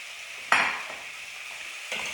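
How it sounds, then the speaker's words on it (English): A spoon stirs soup with carrots in a pot: two close scraping strokes, one near the start and one near the end, over a steady background hiss. "Okay, another good stir."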